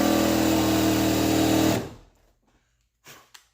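A drill running in reverse bores through the fiberglass of an R32 Skyline hood, a loud, steady whir that cuts off abruptly, followed by near silence and a couple of brief handling knocks.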